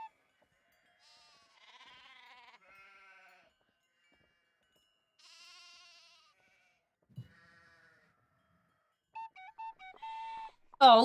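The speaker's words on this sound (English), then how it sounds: "Oh, look at the sheepy." Sheep bleat in a Nancy Drew computer game, Castle Malloy puzzle scene: a few short synthetic bleats and game tones scattered through quiet stretches, ending in a brief loud chime, with no talking.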